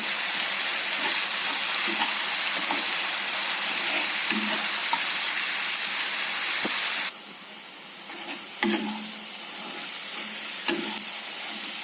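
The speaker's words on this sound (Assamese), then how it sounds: "আৰু এতিয়া মই নহৰু, পিঁয়াজ আৰু জলকীয়া পেষ্টখিনি দি দিম। মই ৰঙচুৱা হোৱালৈকে ভাজি থাকিম এইখিনি।" Garlic, onion and green chili paste fries in hot oil, a bright steady sizzle that drops sharply partway through, followed by quieter crackling and occasional stirring scrapes.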